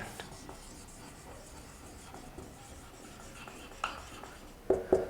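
A pen writes depreciation figures during an accounting lesson on payback period numericals, giving faint, close scratching strokes with a few sharper taps near the end over quiet room hiss.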